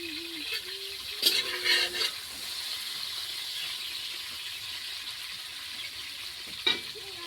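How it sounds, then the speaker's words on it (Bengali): Steady, even sizzle of vegetables frying in hot oil, broken by a couple of brief metallic scrapes and squeaks from stirring. "চলো একটা করে সবজি ভাজা হয়ে যাক"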